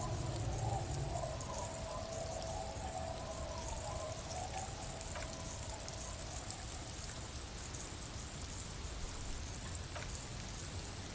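Steady rain in the video game Disco Elysium, a continuous wash of falling drops and surface patter with a faint tonal background layer, even and moderately loud throughout with no voices.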